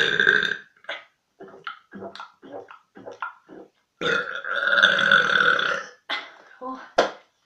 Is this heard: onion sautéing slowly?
no